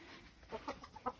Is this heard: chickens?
yes